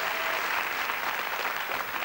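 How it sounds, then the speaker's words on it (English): A studio audience on the Des O'Connor talk show applauds in a dense, steady wash of clapping, with no voices over it. "I think you might get some cheering from the girls here"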